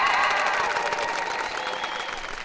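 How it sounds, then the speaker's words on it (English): Audience at a live talk applauding and cheering, a dense, steady wash of many hands clapping with shouts mixed in, loud at first and fading slightly over a couple of seconds. "Give yourself a round of applause."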